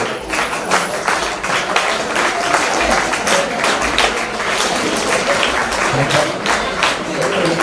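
Loud, sustained applause from an audience at an old students' association felicitation event, dense clapping filling the whole stretch at a steady level.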